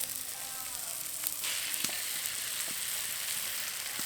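Potato and carrot kochuri filling, boiled and spice-coated, with tomato and chopped coriander, sizzles steadily in a hot pan, with a few sharp scraping stirs cutting through the continuous frying hiss.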